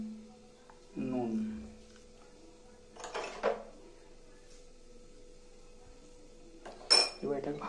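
Fish being mixed by hand with a little oil, black cumin and salt in a bowl, giving a few short utensil-and-dish clinks and scrapes in separate bursts over a quiet background.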